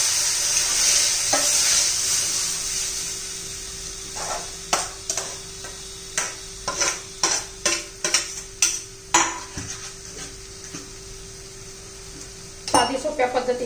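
A pan sautéing before cooked green mung is added, with a soft sizzle underneath and a run of regular spoon knocks and scrapes against the pan, close and clear.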